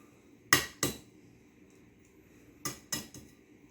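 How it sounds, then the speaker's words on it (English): Eggs being lightly scrambled in a bowl for Thanksgiving cornbread dressing: a few sharp utensil knocks against the bowl, two quick pairs of clinks separated by a quiet pause, close and clear with no talking. "You crack your eggs and then you scramble them lightly before you put them in."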